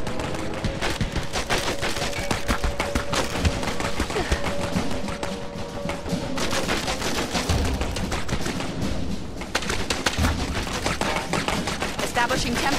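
Rapid automatic gunfire in Clive Barker's Jericho rattles almost without pause, loud and dense throughout, with a steady tone humming underneath for the first half.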